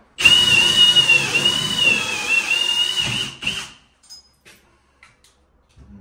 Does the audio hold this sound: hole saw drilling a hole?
yes